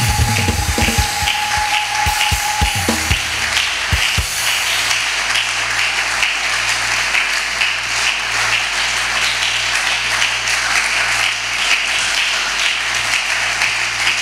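A church congregation claps and cheers continuously during a service, dense applause with scattered shouts, loud and sustained throughout after a few opening taps.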